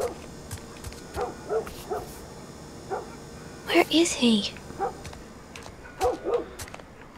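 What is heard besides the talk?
dog barking in video game The Last of Us Part I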